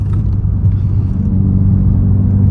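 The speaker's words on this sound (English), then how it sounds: "just have you guys have fun listening to the sound of this car" A 2023 Subaru WRX cruises on winding backroads, its engine giving a steady, deep low rumble and road drone heard from inside the cabin, fairly loud and even throughout, with no talking.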